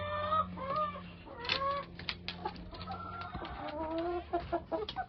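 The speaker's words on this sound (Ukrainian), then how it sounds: "і випущу півнів" Several roosters cluck and chatter close by in irregular bursts, with overlapping calls and soft rustling between them.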